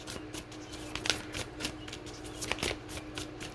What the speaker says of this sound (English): Shuffling one more time.